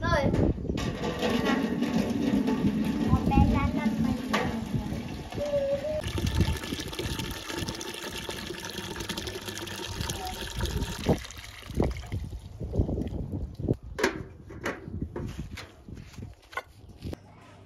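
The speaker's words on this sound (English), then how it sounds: "Poured myself some bathing water and I'm just gonna have a bath" Bathing water pours and trickles steadily into a bath at home, a continuous close liquid gush with occasional footsteps and knocks, as a person speaks over it at times.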